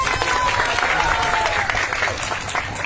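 Continuous applause from a crowd at a Durga Puja pandal at a community Durga temple, loud and steady throughout with dense overlapping claps.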